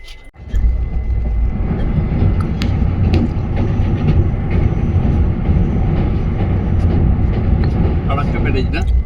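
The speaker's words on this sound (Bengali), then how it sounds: "মোটামুটি ট্রেন ঠিকই যাচ্ছে" Inside a moving train near Malda in rain, a loud continuous rumble with rattling and faint clicks runs throughout, close and steady, with a voice talking over it.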